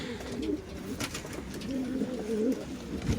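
Hungry pigeons in a loft coo softly and repeatedly, low rolling calls at moderate distance over a steady background hiss, with no one talking.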